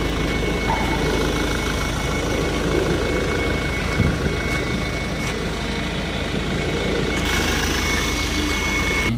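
Mahindra Scorpio S11 engine running just after starting, a steady, loud, continuous idle rumble with a constant hum heard from inside the vehicle, with no talk.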